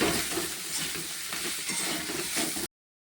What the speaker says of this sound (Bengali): হলুদ লঙ্কা ধনের গুঁড়ো জিরের গুঁড়ো নুন দিয়ে দিলাম ভালো করে কষে নেব আলুর সাথে